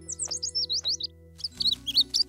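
A cartoon baby bird chirps in quick high tweeting bursts, a run of bright chirps, a short pause, then another lively cluster, over a soft steady musical hum.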